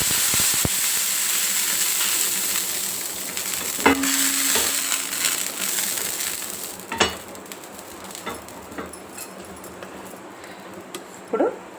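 Oil sizzles steadily on a hot, recently seasoned dosa pan on a stove, a continuous frying hiss with a few sharp clanks and knocks of utensils against the pan.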